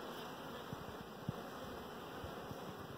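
Honey bees buzz steadily around a bee yard in early spring, a dense, continuous close-up hum with no voices.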